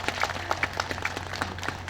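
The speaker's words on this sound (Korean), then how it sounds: "여러분 박수 부탁드리겠습니다" Scattered hand claps from a small audience at a ceremony, following a congratulatory speech, uneven and sparse, fairly close, over a low steady hum.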